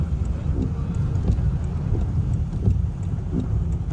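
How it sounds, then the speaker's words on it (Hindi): Steady heavy rain in Makkah drumming on a moving vehicle, with a low rumbling road and engine noise beneath, continuous and fairly loud throughout. "बारिश इतनी तेज़ है कि यहाँ पर सामने दिखाई भी नहीं दे रहा"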